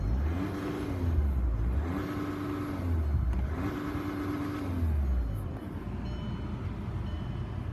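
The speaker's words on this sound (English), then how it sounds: "Rev it up for you." 2009 Volkswagen Jetta TDI diesel engine revved three times in a row from idle, each rev rising and falling in a regular rhythm, close and fairly loud, then settling back to a steady idle.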